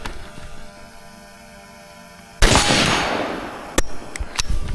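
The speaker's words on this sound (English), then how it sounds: "First round goes boom" A single loud shot from a Staccato C2 pistol with a flaming compensator at a paper-target range, a sharp blast with a decaying tail, followed by a few fainter clacks and knocks; nobody speaks.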